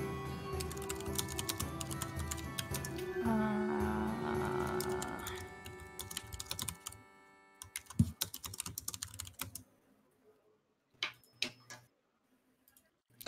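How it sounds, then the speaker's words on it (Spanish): Computer keyboard typing picked up through a microphone, a steady patter of key clicks buried under music and background noise at first, then clearer isolated clatters of keystrokes later on. "tenemos un micrófono para Angu a través del cual se oye perfectamente su teclado"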